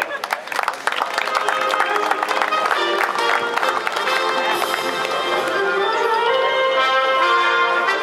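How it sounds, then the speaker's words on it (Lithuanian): An audience applauds at a summer basketball league season-closing ceremony, sustained dense clapping throughout with faint crowd noise and music-like tones underneath. "Plojimai."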